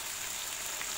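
Leunca and tauco stir-fry sizzling in a pan as water is added, a bright, continuous hiss and crackle close up, steady for the whole moment with no talking.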